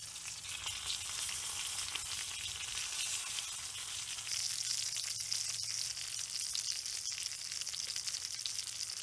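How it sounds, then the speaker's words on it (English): Bacon-wrapped steak fries in a pan at a rainy campsite, giving a loud, continuous close-up sizzle and crackle with scattered pops and no voices. "the dish is still frying when they bring it to your table"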